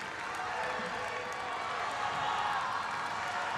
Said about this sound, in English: Crowd right behind him.